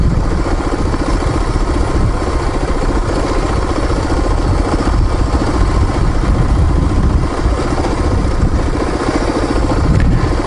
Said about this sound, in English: There's another bike coming up here.